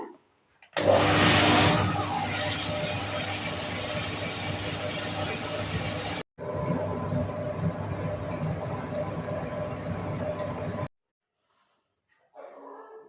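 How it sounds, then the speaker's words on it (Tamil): Loud, steady whirring of a wet grinder grinding ragi dosa batter, running continuously, briefly pausing and resuming, with a faint voice afterward. "கொஞ்சம் தண்ணி ஊற்றி ஆட்டிக்கலாங்க"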